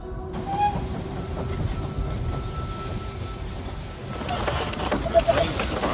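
A train rolls into a station in the strategy video game They Are Billions, a steady rumbling rail noise with faint clatter and a brief high squeal near the end, under soft game ambience.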